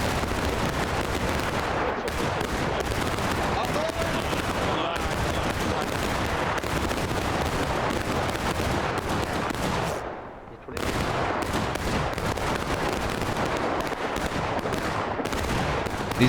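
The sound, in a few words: musket gunfire in the video game War of Rights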